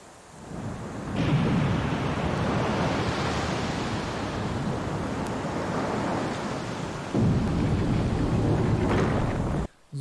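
Water draining away in a flooded room in Resident Evil on Nintendo Switch, a loud steady rushing wash with no talk, rising again near the end before cutting off.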